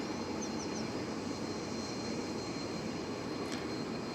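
A Korean Air cargo Boeing 777 jet at DFW Airport makes a steady, broad engine roar that holds at a constant level throughout, with no talk over it.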